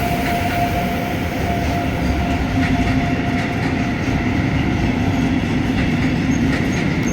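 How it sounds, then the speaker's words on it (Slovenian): Heavy freight train rumbling past close by on the line to Koper, Slovenia, a continuous loud roar of rolling wagons with faint rhythmic clatter and a high metallic whine. "tovorni vlak, ki pelje v Ljubljano, oziroma zagotovo v Koper."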